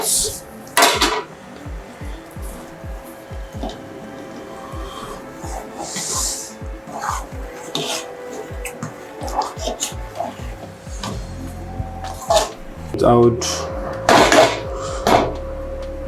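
Egusi-okro soup is stirred in a pot with a metal spoon, producing repeated scraping clanks and knocks against the pot, growing busier and louder toward the end, with a voice briefly heard.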